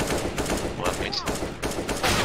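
Rapid automatic gunfire in the competitive shooter Counter-Strike, with dense bursts of shots crackling continuously and loudly through the whole moment.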